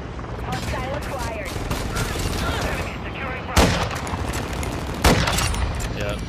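Gunfire in the video game Modern Warfare II: two sharp, loud shots stand out over a steady bed of game noise, with a voice talking underneath.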